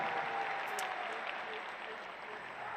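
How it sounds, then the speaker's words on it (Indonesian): Broad audience applause at an Indonesian political speech, a dense wash of clapping held at an even level with faint crowd noise and a brief whistle-like tone. "Beri tepuk tangan untuk seluruh jajaran Amanat Indonesia."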